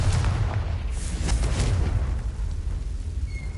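Confringo blasting spell explosion in Hogwarts Legacy, a loud, rumbling boom that fills the moment and then slowly decays into a low roar.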